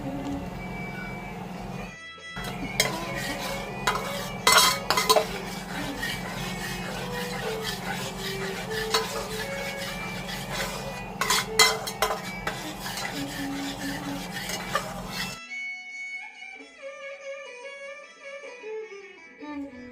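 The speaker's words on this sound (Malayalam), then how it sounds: "ചെറുതീയിൽ ഇളക്കിക്കൊണ്ടേയിരിക്കണം." Jackfruit payasam (chakka pradhaman) stirred in a pan on a low flame, a steady metallic scraping and clinking of a spoon against the pan with a low hum beneath, ending in a short musical outro.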